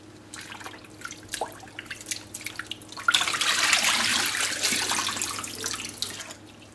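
Water from a tap splashing while grape leaves are rinsed, starting with scattered drips and small splashes, then a fuller steady close stream of running water.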